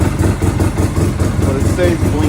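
A Polaris RZR 800 engine runs at a steady, loud idle up close after a push-start, with a rapid, even pulsing throb.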